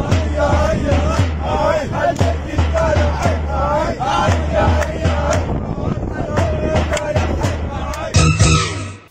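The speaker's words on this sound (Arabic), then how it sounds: "احتشد المتظاهرون في كوستي مرددين هتافات تطالب بإسقاط الانقلاب" Crowd of protesters in Kosti, White Nile state, chanting slogans together in a loud, rhythmic, sustained outdoor chorus, with bursts of shouting and a sharp rise near the end.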